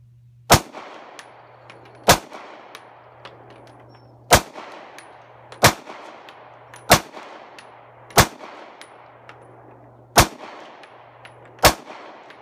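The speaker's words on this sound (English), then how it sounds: "So we're gonna try the 9mm now." Eight sharp 9mm handgun shots fired one at a time at a target 70 yards out on an outdoor range, each crack loud and close with a short ringing tail, spaced about every one and a half to two seconds.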